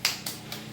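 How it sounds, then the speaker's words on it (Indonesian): Three quick, faint claps in a short rhythmic burst form the cheer pattern of a group 'tepuk hebat' during an Indonesian training course session, with no talking over them. "Beri tepuk hebat untuk Ibu Alif."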